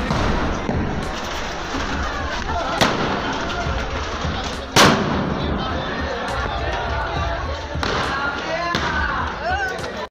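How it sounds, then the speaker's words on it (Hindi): Diwali firecrackers crack and pop amid a noisy crowd in Rajasthan, with one sharp, loud bang standing out near the middle as people talk and shout throughout. "जिन पटाखों को इंसान पर फेंका जाता है वे पटाखे बेहद खतरनाक होते हैं।"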